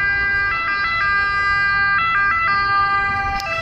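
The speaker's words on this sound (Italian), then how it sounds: "oltre all'ambulanza che passa" An ambulance siren passes by on an Italian street, a loud two-tone wail alternating steadily for several seconds over road noise, with no voices.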